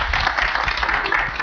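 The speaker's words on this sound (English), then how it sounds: "So give Linda a round of applause for that." Applause from an audience at a Delanco Township committee meeting, a short burst of dense clapping, fairly steady and moderately loud in a hall with no talk over it.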